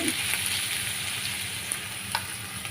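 Ginger-garlic paste frying in a pan for Kuwaiti-style rice makes a continuous close sizzle, with a few faint scrapes and clicks of stirring over the steady hiss and no talking.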